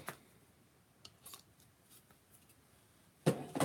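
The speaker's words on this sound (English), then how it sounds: "I'm going to grab me a pair of scissors. Using my material scissors." Fabric scissors snip through crochet yarn in a few quiet, sharp cuts spaced apart, with a louder burst of cutting and handling at the end.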